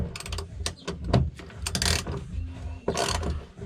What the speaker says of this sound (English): Okay guys, I'm gonna start undoing these torque bolts.